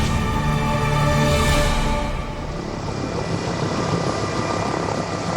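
A KUH Surion military helicopter flies during cold-weather test flights in Alaska, its rotor and engine roaring loudly and steadily up close, easing slightly after a couple of seconds.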